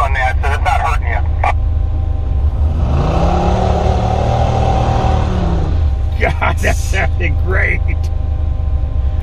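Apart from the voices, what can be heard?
muscle car engine revving on muddy ledge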